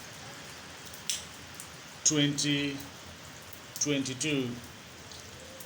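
Steady rainfall in the United Arab Emirates hisses as a constant wash throughout, with people talking briefly over it twice in the middle.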